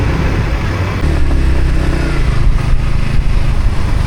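Yamaha MT-15 motorcycle on a road ride in Sri Lanka, its engine droning loud and steady throughout with broadband wind and road rumble, a slight shift in pitch about a second in.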